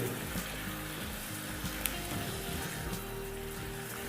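Whisked curd being stirred into a simmering onion and capsicum curry in a pan, a soft steady sizzle with occasional spoon scrapes and taps, fairly quiet and without voices.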